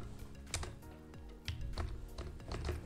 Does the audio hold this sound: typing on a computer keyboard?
yes